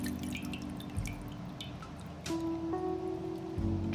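Water drips and trickles off soaked fish as it drains, soft irregular droplets falling close by over a steady low hum.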